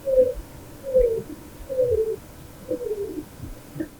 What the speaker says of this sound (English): I found that roadrunners sound exactly like a whimpering dog